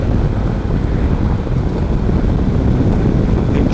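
A Royal Alloy scooter with a metal body and standard exhaust runs steadily close by, a continuous low engine drone with wind-like rumble and no breaks or voices.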